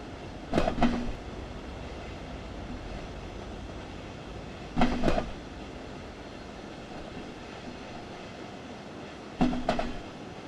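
A train runs in Train Simulator 5, with a quiet steady background rumble broken by three short, sharp clanking bursts spaced several seconds apart.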